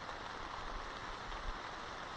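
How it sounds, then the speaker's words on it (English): Steady rain falling over a pine forest hammock campsite in the Catskills in autumn, a soft even hiss of drops pattering on surfaces, fairly faint and uninterrupted. "So far the pine trees overhead are keeping the rain off me."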